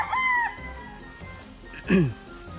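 A gamefowl stag gives two short crowing calls, near and fairly clear, with quiet background and someone talking in between.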